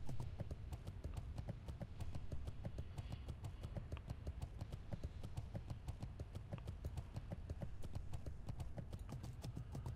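Steady, fast clip-clop of horse hooves from a ridden mount in World of Warcraft Classic, an even galloping rhythm that runs without a break for the whole stretch, close and loud.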